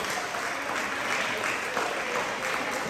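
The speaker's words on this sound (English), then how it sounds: "Do me a favor, clap it up for Legend" Middle school audience applauding steadily in a room, a dense continuous wash of clapping throughout with no talk over it.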